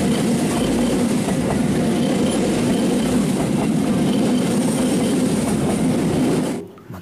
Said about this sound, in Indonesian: Wow, lokomotif tipe CC203.